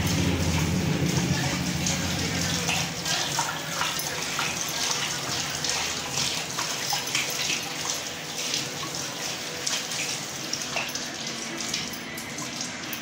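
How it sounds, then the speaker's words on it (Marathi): Tap water runs steadily onto a cloth towel being wetted in a home kitchen while making karanji, a continuous close splashing flow with no talk. "आणि हा ओला रुमाल घेते, मी ओला करून घेते त्याला."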